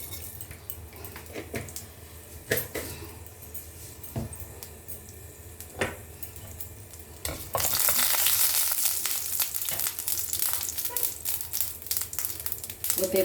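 Dry chili and mustard seeds sizzling in hot oil in a pan, a close crackling hiss that swells louder partway through, with occasional utensil clinks.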